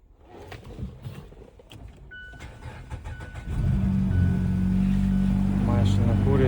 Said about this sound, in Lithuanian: Mašina kūrėsi ir važiuoja